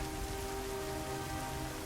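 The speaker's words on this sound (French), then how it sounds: "alors qu'il pleut des cordes" Heavy rain pours steadily outdoors in a dense, unbroken hiss with no pauses, while faint sustained tones hum beneath the downpour.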